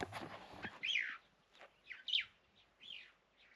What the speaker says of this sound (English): Little white-browed sparrow weaving camp this morning at Urikaruus. Very noisy